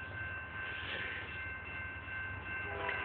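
A train passes with a steady mechanical rumble and the faint, sustained tone of its horn, heard from some distance at low volume without speech.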